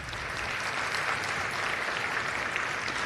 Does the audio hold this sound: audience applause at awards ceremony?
yes